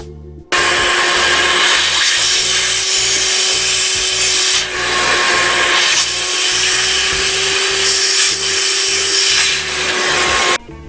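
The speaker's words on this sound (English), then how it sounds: "Lubricate the opposite hole and tap those threads" Thread tap spinning to cut threads in soft aluminum, a loud, steady whirring tool drone with a constant pitch that runs almost without a break for about ten seconds and stops abruptly, with no talking.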